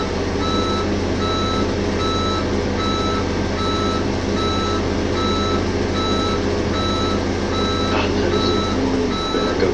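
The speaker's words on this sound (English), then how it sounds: "I don't know many trucks that have backup beepers" In Farming Simulator 2015, a reversing truck's backup beeper sounds a steady series of evenly spaced electronic beeps over a constant engine drone, loud and close, with no talking.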